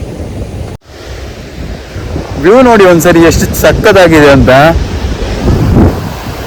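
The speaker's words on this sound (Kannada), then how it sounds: "ಈಗ ಒಂದು ಅಲೆ ಬಂದರೆ ನೋಡಿ ಫುಲ್ ಕಾಲರಿ ಬರುತ್ತೆ ನೀರು" Ocean surf rolls in steadily at Kodi Kanya beach as the evening tide comes in, a continuous loud wash of waves under someone talking over it for much of the stretch.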